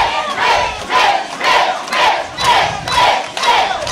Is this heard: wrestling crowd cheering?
yes